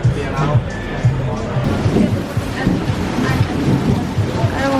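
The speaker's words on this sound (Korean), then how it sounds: "아까부터 천둥은 계속 치고 있어요." Low thunder rumbles on and off before rain in Luang Prabang, Laos, heard from a restaurant, a deep continuous roll sitting under people talking nearby.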